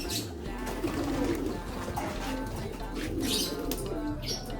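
Grizzle and blue bar pigeons coo softly in a loft, with low repeated coos and a few faint chirps over a quiet background.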